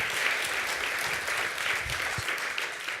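Sustained audience applause at an opening ceremony, a steady dense wash of many hands clapping from start to finish with no pauses.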